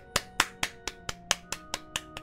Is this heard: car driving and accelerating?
no